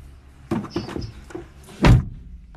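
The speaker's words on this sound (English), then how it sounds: "I just need to close my door." A door closing indoors: a few light clicks and knocks from the latch and handle, then one solid thump as it shuts. It is close and heard with no talk over it.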